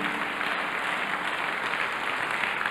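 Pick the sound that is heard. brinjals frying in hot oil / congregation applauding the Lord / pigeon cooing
congregation applauding the Lord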